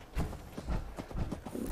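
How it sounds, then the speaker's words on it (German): Hooves of a cow walking away in the Fallout 4 video game, a series of soft, uneven thuds in a loose trotting rhythm, close and moderately quiet, with no speech over them. "Hey, unsere Kuh läuft weg."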